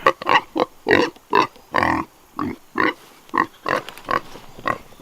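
Pigs on a farm grunt and oink in a rapid string of short, close, fairly loud bursts with brief pauses between them, with no talk over them.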